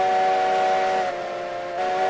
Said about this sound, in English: apparently the whistle needs to correlate to the size of the engine